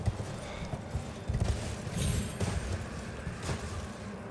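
Horse hooves gallop in the video game Elden Ring, a fairly loud, rhythmic clip-clop over a rumbling background, with faint voices.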